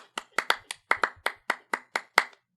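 Hands clap alone in a steady, evenly spaced rhythm, about a dozen sharp close claps, like clapping along to a sports stadium song.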